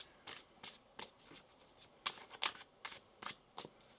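Tarot cards are riffled and shuffled by hand in quick, crisp bursts, about a dozen soft papery slaps at a steady rhythm, close by and quiet, with no talking.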